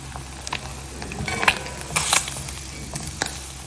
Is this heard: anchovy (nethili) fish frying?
yes